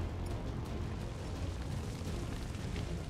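A gunshot fired in the video game XCOM 2 comes as a dense, booming blast of noise that fills the whole short stretch at steady loudness, with no talk over it.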